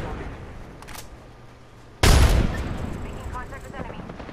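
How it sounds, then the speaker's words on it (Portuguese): A sudden sharp burst of gunfire from another squad in Apex Legends erupts midway, loud and close, decaying into a rattling tail after a quieter stretch. "Nossa, tem outro squad atirando nele"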